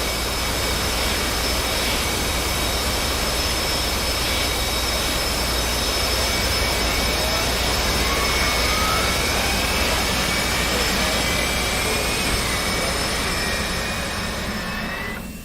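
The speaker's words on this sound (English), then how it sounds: "getting the aircraft back started again. Introducing some fuel." A military jet engine starts up in the DCS World flight simulator. A loud, steady turbine roar and hiss hold throughout, with a rising whine sweeping upward as the engine spools before the sound cuts off abruptly.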